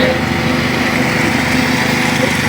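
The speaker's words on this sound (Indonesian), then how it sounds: "Tadi nyalain mesin jet pump soalnya buat nyedot air." An engine-driven jet pump sucking up water beside a river channel, a loud steady buzzing motor drone that holds constant without pause, close by.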